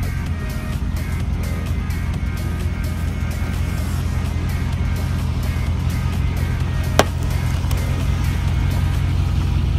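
A truck rolls slowly past in a steady, loud low rumble of engine and tires lasting several seconds, with one sharp click or snap near the end.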